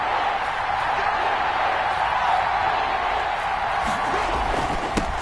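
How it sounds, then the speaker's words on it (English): A video game football crowd roars steadily ahead of a big third down, a continuous, fairly loud wash of cheering and whooping with a brief sharper burst near the end. "The crowd getting into it as we come up on a big 3rd down."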